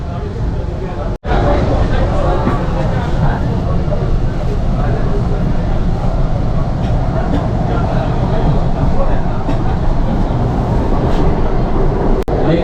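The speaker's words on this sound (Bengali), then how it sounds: "এবার ট্রেন ছুটবে।" A Kolkata underwater metro train between Howrah and Esplanade pulls away and runs on, a steady loud rumble and roar of the carriage filling the whole stretch, with one brief dropout early on.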